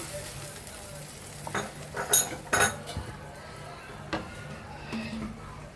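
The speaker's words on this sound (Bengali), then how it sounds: "এবার এর মধ্যে জল দিয়ে দিচ্ছি অল্প, বেশি জল দেবো না" Water added to cooked, oil-released spice paste in a pan for doi katla, a soft sizzle under a few sharp clinks and scrapes of a utensil on the pan, close by.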